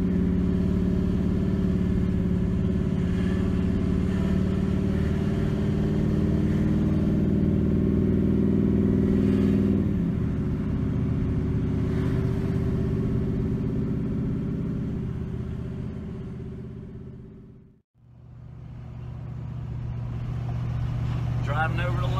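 A farm tractor hauls a corn wagon through town during a Pennsylvania corn harvest, its engine droning steadily and loudly with a low hum, easing off briefly near the end before picking back up.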